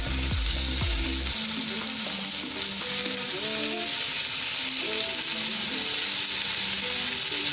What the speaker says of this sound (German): Die erste Runde Fleisch ist angebraten, nehmen wir raus.